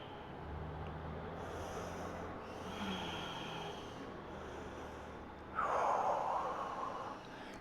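Deep breathing from a yoga practitioner during a sweaty flow session, soft and close with a louder forceful exhale near the end, no talking.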